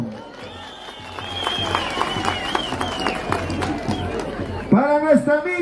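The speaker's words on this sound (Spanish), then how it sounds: "que vengan los aplausos bien fuerte y largo" Audience applause at the final of a carnival contest in Pampas Ahuaycha, steady clapping with crowd hubbub and a few shouts over a continuous, moderately loud wash, while people talk and sing faintly underneath.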